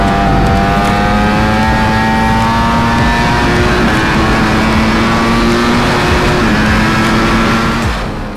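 A superbike engine revs hard and accelerates at high speed, a loud, sustained, close whine with rising and shifting pitch, no talking over it.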